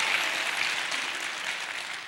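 A church congregation applauding during a sermon, a steady wash of clapping held at moderate volume for the whole stretch, with no voices over it.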